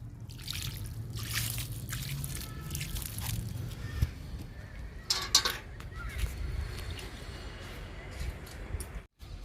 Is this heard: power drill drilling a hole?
no